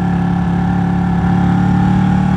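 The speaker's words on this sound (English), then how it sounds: "you can see the RPM there just shuddering a little bit" Ducati 1199 Panigale engine running at low RPM in second gear around 30 mph, a steady mid-pitched drone with slight uneven shudder, loud and close, no voices.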